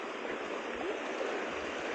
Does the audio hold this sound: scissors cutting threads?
no